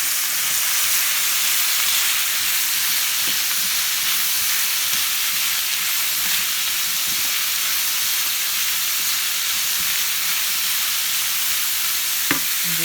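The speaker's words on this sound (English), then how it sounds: "Now I'm going to add 2 tablespoons of oil to the celery, and then I'm going to saute them" Celery sizzling as it sautés in two tablespoons of oil, a steady close-up frying hiss with faint stirring clicks throughout, and one sharper knock near the end.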